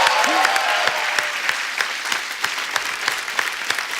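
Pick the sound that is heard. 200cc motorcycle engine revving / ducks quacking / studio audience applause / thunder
studio audience applause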